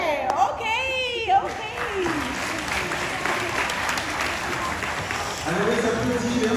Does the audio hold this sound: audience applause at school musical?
yes